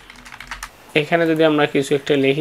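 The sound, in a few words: typing on a computer keyboard in MS Excel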